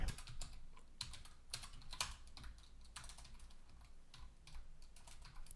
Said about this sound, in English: my typing seems to be getting worse